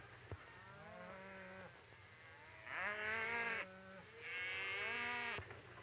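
Cattle mooing across an open field: a low moo, then two longer, louder bellowing moos, with steady outdoor background noise and no talking.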